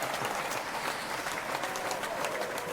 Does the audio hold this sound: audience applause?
yes